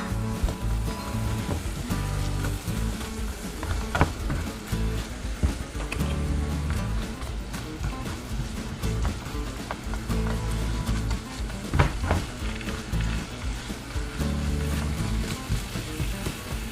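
Onions hit hot garlic in a pan over low-medium heat and sizzle steadily and softly for a while, with scattered crackles and stirring scrapes over the frying hiss.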